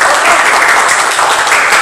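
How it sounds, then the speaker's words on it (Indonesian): Applause from an audience at a screen-printing training event in Simbang village, a dense, steady clatter of many hands clapping close by for about two seconds, with no break in the sound. "Tepuk tangan."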